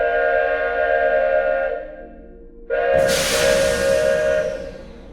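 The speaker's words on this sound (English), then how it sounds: "he heard the train outside his house" A steam train whistle blows a loud, sustained multi-tone note that fades out. A second blast follows, joined by a strong rushing hiss of escaping steam that slowly dies away.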